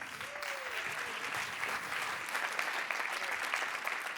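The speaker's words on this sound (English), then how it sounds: "And now I want to have this applause for Auguste von Bayern." Audience applause for a speaker at a talk on climate, biodiversity and planetary health: a faint, steady patter of many hands clapping throughout, heard from a distance.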